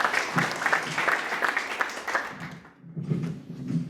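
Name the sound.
audience applause for a conference speaker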